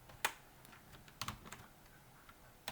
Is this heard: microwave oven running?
no